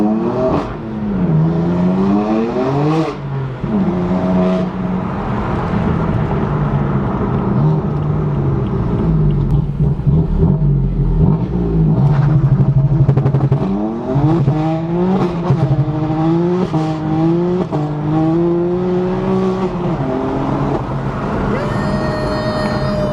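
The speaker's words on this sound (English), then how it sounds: "How do you like that rev match though?" A BMW M4 with a straight-pipe exhaust revs hard and close, its loud engine note climbing and falling through repeated rev-matched gear changes and accelerations, sounding raw and sustained with little talk.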